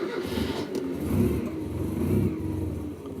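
A cold Colt Lancer Turbo EX2000 engine idling just after starting, a close, steady low rumble with slightly uneven pulses and mild swells in loudness, no talking.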